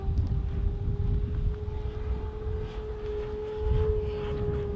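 A Top Flite P-47D Thunderbolt model airplane flies overhead at part throttle, its engine a steady droning tone heard at a distance through gusty wind noise on the microphone.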